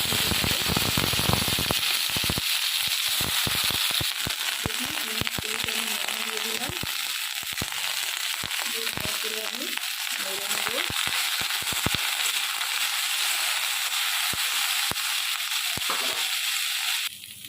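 Onion stalks frying in a little oil in a pan give a steady, close sizzle and crackle throughout, with sharp pops and stirring clatter scattered on top and brief speech-like sounds mixed in.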